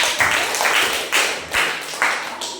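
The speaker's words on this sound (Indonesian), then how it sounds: "Oke, sebelum itu kita tepuk tangan untuk kelompok 1." A classroom group in an Indonesian training session applauds a presenting team with loud, close, rhythmic clapping. The claps fall in steady unison beats about every half second, with no talking over them.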